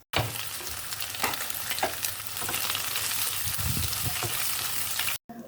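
Sliced carrots stir-fried with scrambled egg in a pan, a steady close sizzle with scraping spatula strokes throughout, cut off abruptly near the end.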